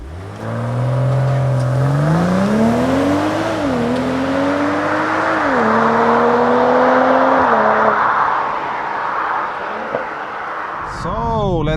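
A 2022 BMW M240i launches hard under launch control with the transmission in S, its engine note climbing loudly and close, then dropping at each of three quick upshifts before fading into road and wind roar.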